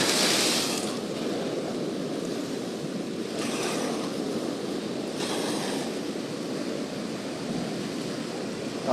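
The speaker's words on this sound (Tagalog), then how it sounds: "lalaki ng mga alon guys" Big ocean waves surge and break off Siargao on a fishing outing, a steady roar of surf with heavier swells rolling in near the start and again around the middle, mixed with wind rumble on the microphone.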